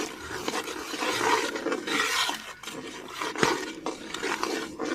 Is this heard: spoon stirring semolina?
yes